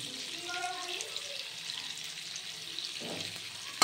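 Whole spices (cardamom, cinnamon, cloves, cumin seeds) frying in hot oil for chicken curry, a soft steady sizzle close by with faint clinks, a brief louder hiss near the end.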